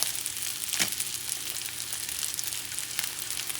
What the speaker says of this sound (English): And I'm going to crack an egg